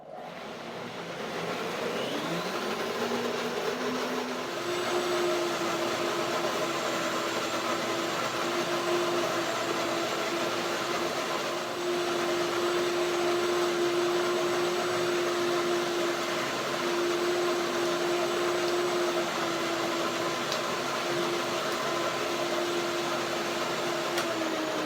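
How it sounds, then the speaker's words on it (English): A kitchen blender starts and then runs steadily at low speed for the whole stretch, giving a continuous whirring hum with a fixed motor tone, close and alone, with no talking. "Let's see what the blender does."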